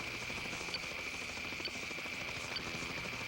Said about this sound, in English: The helicopter homes in on the sound.